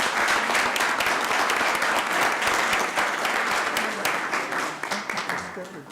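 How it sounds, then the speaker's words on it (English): Steady, sustained applause from a crowd at a city council meeting, dense clapping throughout with no break. "Let's give them another round of applause."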